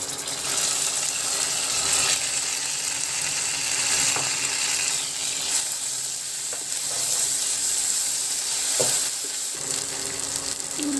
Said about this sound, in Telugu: ఇప్పుడు అల్లం పేస్ట్ వేసేద్దామండి